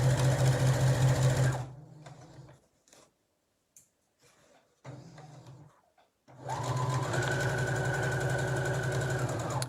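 A sewing machine stitches a fabric drawstring bag, running in a loud steady whir, stopping for several seconds of near silence with faint handling noises, then starting again and running continuously to the end.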